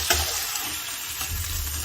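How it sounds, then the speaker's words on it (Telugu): Plain fish fillets fry in hot oil while being turned over, a close, steady crackling sizzle with a couple of brief clatters as the pieces are flipped. "సో ఇది ప్లెయిన్ ఫిష్ నేను ఫ్రై చేస్తున్నాను"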